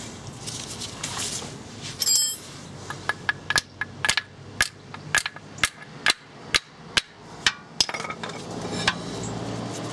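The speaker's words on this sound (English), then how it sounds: "So now I can tap the bolt out the rest of the way." Metal-on-metal hammer taps driving a bolt out of a Volkswagen Golf Mk2 front wheel hub, a steady series of sharp, ringing strikes up close, getting more regular toward the end.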